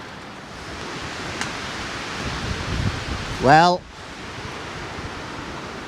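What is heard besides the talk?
strong wind in woods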